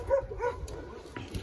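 A dog barks a few short, muffled times at some distance as its owner gets into a loud bagged 1960 Buick LeSabre cruiser.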